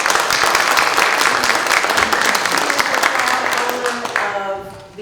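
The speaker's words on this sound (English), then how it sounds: "So give her a round of applause." A crowd applauds at a tribute gathering, with dense, lively clapping that holds steady, then thins and fades toward the end while a few voices murmur underneath.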